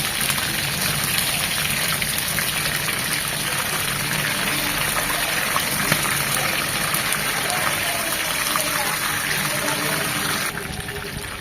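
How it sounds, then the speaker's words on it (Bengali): Masala chicken pieces sizzle and fry in a pan of hot oil, a loud, dense, continuous crackle that holds steady throughout and eases slightly at the very end. "উল্টিয়ে পাল্টিয়ে চিকেনগুলো ভালোভাবে ফ্রাই করে নিতে হবে যেন এটা পুরোপুরি কুক হয়ে যায়"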